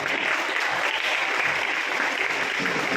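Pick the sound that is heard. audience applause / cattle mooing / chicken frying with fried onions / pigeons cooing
audience applause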